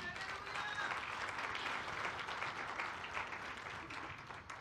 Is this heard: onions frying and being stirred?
no